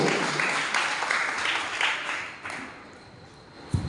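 Congregation applauding a priest at a Catholic Mass in Musunuru: a soft, diffuse wash of clapping that fades toward the end, with a brief thump near the close.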